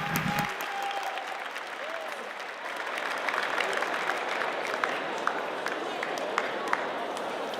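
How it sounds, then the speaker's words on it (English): A large audience at the Slush 2022 startup event applauds in a dense, sustained wash of clapping that holds evenly throughout, with a few scattered louder claps and no voices over it. "we're going to give one final round of applause for the whole Slush 100, for the judges, for Immigram"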